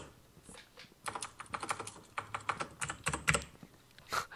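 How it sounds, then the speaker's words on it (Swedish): Computer keyboard typing during a Minecraft session, with a steady run of quick, close clicks in irregular bursts, moderately quiet and with no voices. "Man hör, vems tangentbord är det man hör?"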